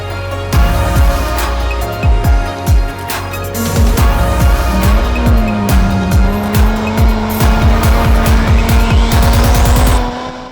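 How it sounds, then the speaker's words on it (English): A Land Rover Defender 90 drives on a paved road, its engine revving up and down through gear changes, loud and close from inside the cabin, with no talking. "let me get things set up and we can hop out on the road and get to driving"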